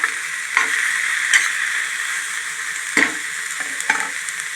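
Food fries in a pan with a steady sizzle, broken by several sharp scraping strokes as it is stirred, close and fairly loud.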